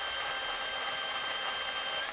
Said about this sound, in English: I got one little rivet I got to drill here